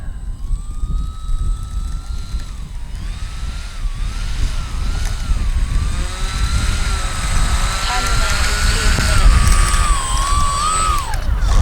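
A Durafly Ugly Stick V2 RC plane taxis in strong wind, its propeller engine giving a steady, wavering whine that rises and falls over constant loud wind rumble.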